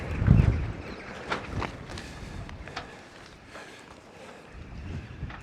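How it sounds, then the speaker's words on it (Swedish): Strong spring wind by Lake Mälaren buffets the microphone with low rumbling gusts, loudest at the start, then settling into a steady blustery roar. "Det blåser ordentligt."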